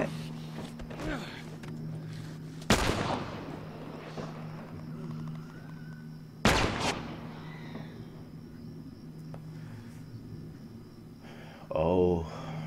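Two sharp, loud gunshot-like bangs a few seconds apart in The Last of Us Remastered, over a steady low ambient hum, with a short rattling burst near the end.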